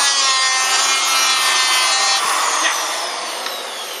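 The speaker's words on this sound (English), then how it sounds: "I'm planing the wrong way on the wood." A hand plane scrapes across wood in one long continuous rasping stroke, bright and close, gradually fading toward the end.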